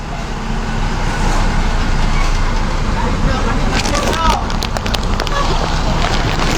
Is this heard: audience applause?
no